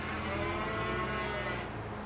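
Cattle moo in the Farming Simulator 22 video game: a long, loud, low bellowing moo that holds steady and then tails off, with no talking over it.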